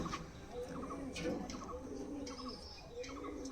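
Pigeons in a loft coo softly in repeated low, rolling calls, a few birds overlapping at close range, quiet against a faint background with occasional chirps.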